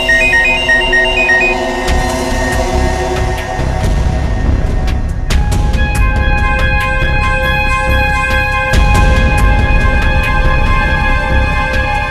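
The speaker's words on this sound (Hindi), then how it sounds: "मोहन, प्लीज मोहन फोन उठाओ" A telephone rings repeatedly in bursts of electronic tones, loud and close, with music and clatter layered underneath.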